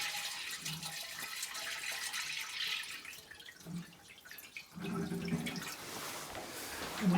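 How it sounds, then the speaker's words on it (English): Glycol poured into a floor drain in an old house, soft trickling and splashing of liquid with faint drips, quiet and close. "pour our glycol in there."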